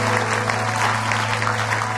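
A church congregation applauds in a dense, steady burst of clapping that fills the room, with a faint murmur of voices underneath.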